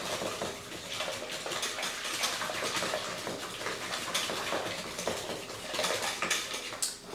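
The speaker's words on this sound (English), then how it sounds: "stir that around good until it is evenly mixed" Spoon stirring cardamom into homemade pumpkin pie filling in a bowl, a continuous wet scraping and clinking at close range, steady and moderately quiet with no speech.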